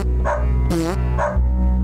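A dog bark sound effect played from a phone button: two short yips bracketing one loud, drawn-out, tonal bark, heard close over a steady low hum.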